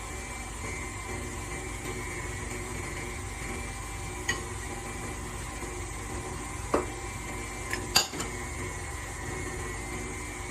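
An electric mixer beats chocolate chip cookie dough with a steady, even motor whir at moderate volume, with a few faint clicks and bumps.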